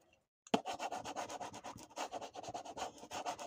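Washi tape is burnished for paper craft tags, a rapid, rhythmic rubbing and scratching close up that starts abruptly and continues steadily, quiet overall.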